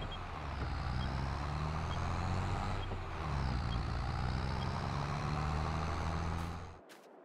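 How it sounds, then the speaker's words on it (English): A heavy truck engine in Farming Simulator 22 drones steadily with low rumbling, a faint repeating high beep overhead, then the engine cuts off abruptly near the end. "I'll get the lorry over there as well"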